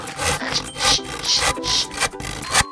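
Hand saw cutting through wood in rhythmic back-and-forth strokes, about six rasping passes heard up close and fairly loud, with no voices.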